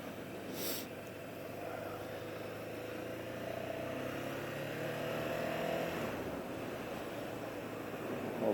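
A 2006 Ducati SuperSport 800 motorcycle engine warms up at a steady idle, a low continuous rumble that holds fairly constant and close throughout, with a slight swell near the middle.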